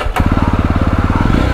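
A Yezdi Roadster motorcycle starts and then idles close by with a loud, fast, even thumping firing beat. The rhythm stays steady after the start.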